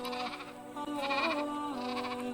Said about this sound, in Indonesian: Abdullah bin Mas'ud mengembalakan kambing di padang rumput